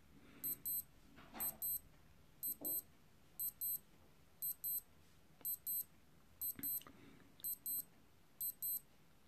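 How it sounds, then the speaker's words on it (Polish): A run of ten high electronic double beeps from a Casio G-Shock GA-110HC-6AER watch alarm, evenly spaced pairs repeating about once a second, faint and close with quiet background. "Jak słyszymy, zegarek otwarza nam 10 sygnałów takich podwójnych"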